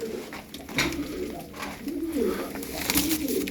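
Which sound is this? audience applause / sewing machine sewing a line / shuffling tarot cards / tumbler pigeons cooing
tumbler pigeons cooing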